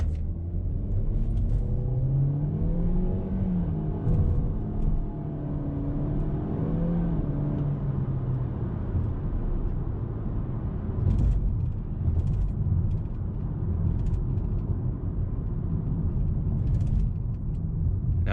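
Lexus UX200 on a road drive, heard from inside the cabin as a steady low engine and road rumble with a brief rise in revs early on and faint rattles throughout.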